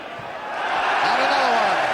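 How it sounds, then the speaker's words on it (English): Crowd cheering swells at a European Cup football match as Aston Villa face FC Barcelona, a broad roar rising over the first second and holding loud, with a commentator talking over it. "David Evans, it's a big cheer"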